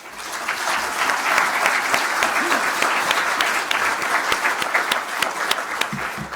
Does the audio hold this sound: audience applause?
yes